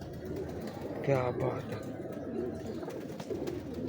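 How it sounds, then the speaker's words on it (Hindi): Cooing of Ferozpuri pigeons, a pedigree breed with blue plumage, comes softly from nearby under steady background noise, while someone speaks briefly over the birds. "ये ख़ानदानी कबूतर"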